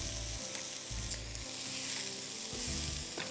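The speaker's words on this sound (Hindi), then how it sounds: "अब हम गाजर डालेंगे, ठीक है। इसको भी सॉटे करिए" Carrots sauté in a hot pan for carrot ginger soup, a loud, continuous sizzle with intermittent stirring scrapes, close and without talk.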